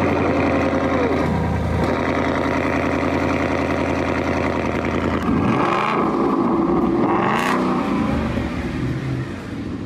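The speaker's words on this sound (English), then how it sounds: "Go ahead and give him that first cold start with that." A Mustang fitted with an Army Tricks exhaust idles roughly on a cold start, then rises in a couple of revs with a throaty swell before settling back, close and loud with no talk over it.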